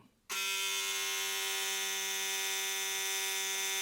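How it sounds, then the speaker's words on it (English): A Laifen electric shaver fitted with its foil head switches on after a short silence and runs with a steady, high-pitched buzzing whine, close and even, with no talk. "the sound when it has the foil shaver on top."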